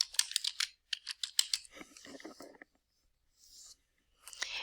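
Typing on a computer keyboard at close range: quick bursts of crisp clicking keystrokes with short pauses between them, and a faint voice underneath.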